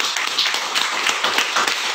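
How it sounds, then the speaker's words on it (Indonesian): An audience at a doctor's medical talk on autoimmune illness claps together, a dense, even patter of many hands that carries steadily for a couple of seconds. "Boleh tepuk tangan dong."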